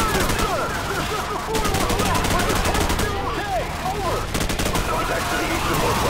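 Machine gun fire in Call of Duty 4: Modern Warfare, dense rapid bursts crackling almost nonstop with brief pauses, layered over loud in-game battle noise.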